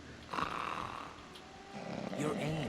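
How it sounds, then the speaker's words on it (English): Snoring picked up through a directional microphone in the stealth game Metal Gear Solid 2: Sons of Liberty, a low rasping breath that swells and fades twice over a muffled background hum, fairly faint. "All you hear is the fucking snoring when you equip the mic."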